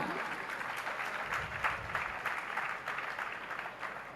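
An audience claps at a Jain religious sermon, steady, dense applause from many hands lasting about four seconds, moderately close and without any voices over it.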